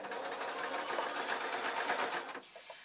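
Sewing machine stitching fabric for an office-style work dress with pleat detailing, a close, continuous rapid whirring chatter that stops near the end, followed by faint handling sounds.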